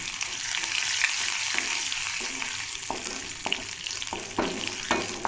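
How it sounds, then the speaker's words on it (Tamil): Curry leaves crackle and sizzle in hot oil, a dense close frying hiss broken by sharp pops and occasional stirring clicks, with no talking. "எண்ணெய் சூடாகிடுச்சு, கருவேப்பிலை போட்டுடுறேன்."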